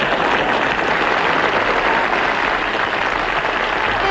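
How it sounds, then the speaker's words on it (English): Studio audience applause on a British comedy show, steady and dense throughout, a full room clapping loudly without pause. "forced applause on that"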